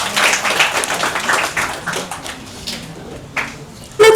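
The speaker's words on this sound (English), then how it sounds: "Let's give a huge round of applause." An audience claps together at a live event, a dense round of applause that gradually thins out, followed by a few scattered claps and a sharp clap near the end.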